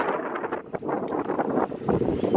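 Strong beach wind buffets the microphone on the Croatian coast, a loud, gusty rumble that surges and dips unevenly across the whole stretch, with no talking.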